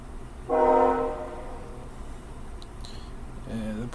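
A passing train sounds a brief, loud horn blast over a low background rumble, followed by fainter tones and a second short horn note near the end.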